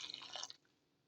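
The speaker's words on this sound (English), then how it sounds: "let me just add a tiny little bit of water" A small splash of water is poured into a cooking pot, a soft, brief watery burst lasting about half a second before fading to near silence.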